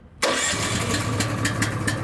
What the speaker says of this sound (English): I want to use the pony motor, just put ignition in, pull the choke, and I'm going to start it up